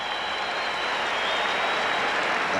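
Loud, sustained applause and crowd roar from a large football crowd at Candlestick Park in 1992, a continuous wash of clapping with no speech over it.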